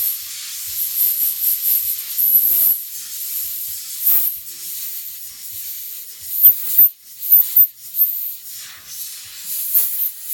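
An airbrush sprays paint onto a model horse's sooty flaxen mane, a close, breathy hiss in repeated bursts that swell and cut off, with short pauses between passes.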